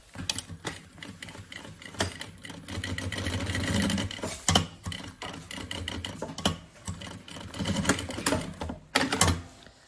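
A sewing machine runs in close, uneven bursts of rapid stitching and pauses as piping is sewn onto a synthetic-fabric bunny backpack, its mechanical clatter loud and alone.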